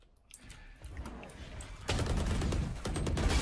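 A round of Valorant brings rapid gunfire, starting with scattered faint shots and then bursting into loud, sustained automatic fire in the second half.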